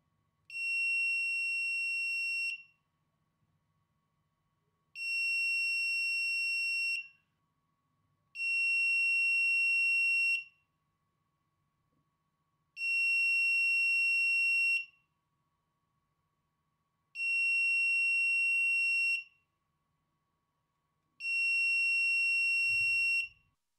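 Buzzer driven by an ESP32 and a tilt sensor sounds six long, pure, steady electronic tones, each about two seconds, separated by silent gaps of similar length, clean and close with nothing else audible.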